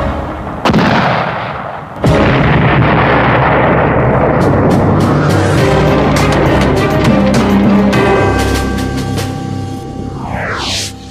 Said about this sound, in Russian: Через несколько часов действительно заговорили пушки.